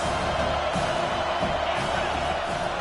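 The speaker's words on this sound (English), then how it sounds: "Listen to this crowd just shaking the girders of this place, trying to help their defense." A stadium crowd roars in the NCAA football video game, a dense steady wall of cheering noise holding at full volume throughout, with a commentator's voice faintly under it.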